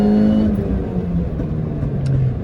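A Mini Cooper S R53 accelerating hard in second gear, heard from inside the cabin, with a steady loud engine drone rising in pitch throughout.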